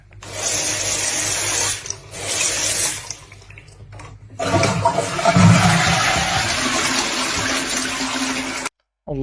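A toilet flushes with a loud rushing surge, followed by a sustained hiss as the cistern refills with water, close by and continuing steadily until a sudden brief cut near the end.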